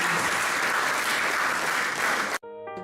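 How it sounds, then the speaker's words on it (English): Audience applause closing a talk session, a steady, full round of clapping from a crowd that cuts off abruptly near the end, followed by a brief musical tone. "Please, can you give a round of applause for this session?"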